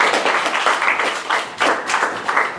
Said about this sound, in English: Round of applause, please, for this man